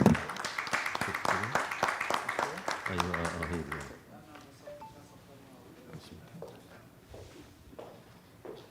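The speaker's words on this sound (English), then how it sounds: "join me to congratulate him for this astounding success with warm round of applause" Applause from an audience at an international echocardiography conference, with dense clapping for the first four seconds, then fading into quieter room noise and scattered low voices.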